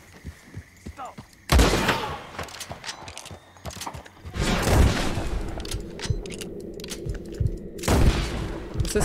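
Gunfire in Red Dead Redemption 2: sharp, loud shots burst out in a few clusters amid background rumble, with a player talking between them.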